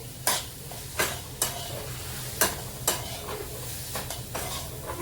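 Spices stirred in a pan for masala pav, giving a series of sharp scraping strokes, roughly one each second, over a low steady sizzle, close and moderately loud with no voices.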